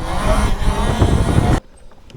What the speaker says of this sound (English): I don't hear anything outside of my gearbox revving.